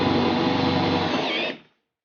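Power drill running continuously on hardened steel during an off-road 4x4 roof rack install, a steady loud whine for about a second and a half before cutting off.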